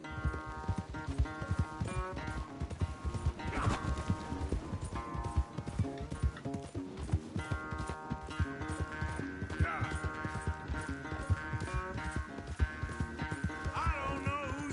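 A horse galloping in the video game Red Dead Redemption 2, with rapid rhythmic hoofbeats pounding steadily throughout under a music bed, while voices talk over it.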